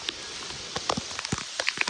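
Heavy rain pouring down during village flooding, a steady close patter with scattered louder drips and splashes.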